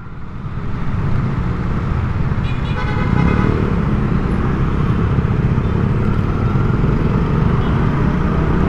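Heavy December street traffic at a stoplight in Tayuman, Manila, with a steady engine rumble close by and a short car horn toot partway through, all loud and dense.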